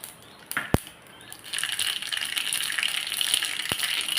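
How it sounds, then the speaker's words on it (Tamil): Mustard seeds spluttering and popping in hot coconut oil in a tempering ladle on the stove, a busy crackling sizzle that builds and holds, with a couple of sharp metallic clicks near the start and end. "நான் தேங்காய் எண்ணெய் ஊற்றுறேன். கடுகு போடுறேன், பொரியட்டும்."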